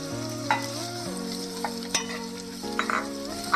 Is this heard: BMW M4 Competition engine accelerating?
no